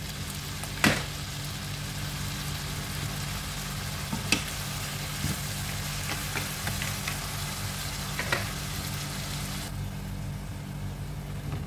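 Cashew nuts frying with a splash of soy sauce in a hot pan, a steady close sizzle and hiss with occasional sharp clicks of a utensil stirring against the metal.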